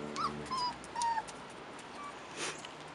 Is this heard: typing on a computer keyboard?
no